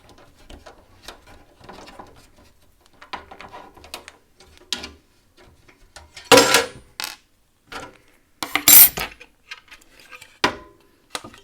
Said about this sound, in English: All we need to do is to take off two of the metal panels here